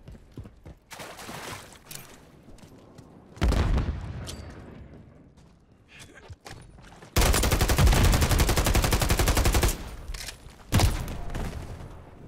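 Gunfire in the video game Modern Warfare III: scattered shots early, then a dense sustained burst of automatic fire lasting a few seconds, with a loud single shot near the end.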